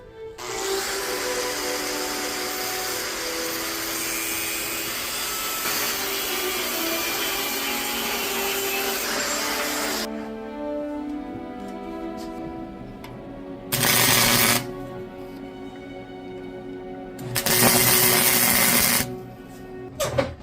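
A Damascus steel billet forge-welded from dollar store blades being cut in half with a power tool: a loud, continuous mechanical whine for about ten seconds, then quieter humming broken by two short, loud bursts.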